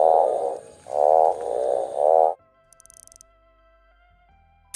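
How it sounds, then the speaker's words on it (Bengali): A frog croaks in four loud, throaty, pulsing bursts close by, then falls silent while a faint tinkling chime plays. "একসাথে ব্যাঙ। ব্যাঙের কান ঘ্যাং ওর ঘ্যাং।"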